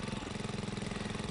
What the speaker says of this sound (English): and begins the drilling again